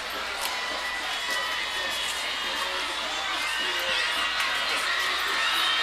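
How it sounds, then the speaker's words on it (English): A high school football crowd cheering from the fan section at a Utah stadium, a broad distant roar of voices and whoops that swells slightly toward the end. "And there's a cheer from their side of the field,"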